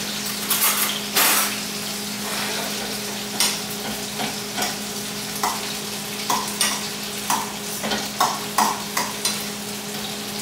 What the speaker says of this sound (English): Sauce is bubbling really, really nicely.